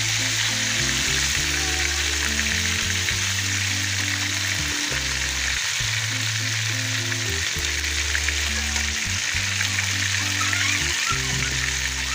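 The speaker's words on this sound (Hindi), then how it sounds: "फिश हमारी फ्राई हो रही है।" Fish fry in hot oil, Lahori restaurant style, giving a constant loud close sizzle and crackle that holds steady throughout, with a low tonal hum underneath.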